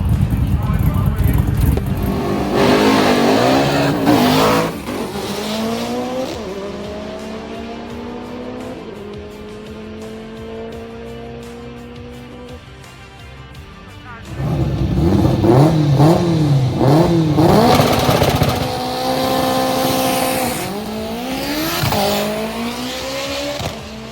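Honda street cars with stick shifts launch down a drag strip, engines revving hard and climbing through gear changes, loud and close, easing to a quieter stretch before another car roars off; people talk over the engines.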